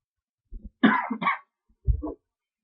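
A person with asthma coughs several times in short, harsh bursts, close to the microphone, with brief silent pauses between them.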